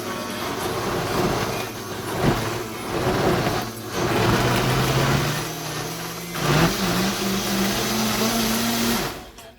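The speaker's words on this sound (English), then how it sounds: "Now it's time to blend it." Vitamix blender whirring through epis seasoning ingredients, a loud near motor roar whose pitch climbs and shifts as the contents break down, with brief dips in load, stopping at the end, no voices.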